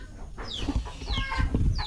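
Several chickens cluck and squawk close by in quick, overlapping bursts, with a rustle of movement underneath.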